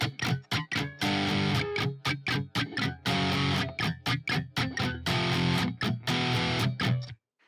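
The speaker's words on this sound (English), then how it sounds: "but now we have a percussive strum in place of the string muting." A distorted electric guitar plays the percussive strum pattern from a song's interlude, with loud chopped chords broken by muted rhythmic hits, close and alone.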